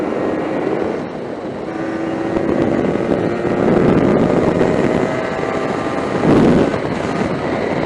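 A Yamaha DT 125 enduro motorcycle cruising in sixth gear gives a continuous buzzing engine note with wind noise. The drone rises and falls slightly as the throttle shifts, heard close from the rider's position.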